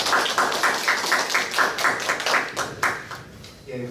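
Audience at a lecture applauding to welcome the speaker, a room of hands clapping in a steady pulsing rhythm that fades out near the end.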